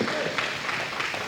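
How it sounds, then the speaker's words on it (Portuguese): A church congregation applauds, a dense continuous wash of clapping at moderate volume with voices mixed in. "Aplauda Jesus, bem forte. Pode aplaudir, meus irmãos."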